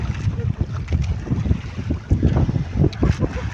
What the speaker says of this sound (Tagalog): Umulan at humangin na.